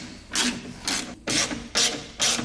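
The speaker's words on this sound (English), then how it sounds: "I'm gonna start taking bolts off in here and hope that it eventually comes out" Ratcheting on bolts inside the door of a barn-find BMW E34 being taken apart to free the door lock: five loud, rasping bursts of about a third of a second each, close up, with short pauses between, and no talk.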